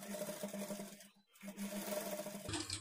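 A sewing machine stitches a plain blouse with a steady low motor hum and repeating stitch rhythm, pausing briefly mid-run and then resuming, ending with a short clatter of fabric handling.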